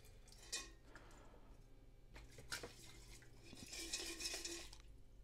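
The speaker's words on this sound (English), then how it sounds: "rinse this out several times with distilled water to get all the tap water rinsed off" Refined gold is rinsed with distilled water in a container, giving faint, intermittent clinks, swirls and splashes with soft knocks of glass or metal, close but quiet, with no talk.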